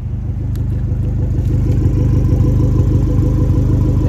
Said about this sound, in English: I am going to show you how this little car idles.